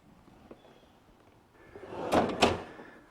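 A quiet room, then a wooden drawer slides along its runners and closes with a soft double thunk, fairly close.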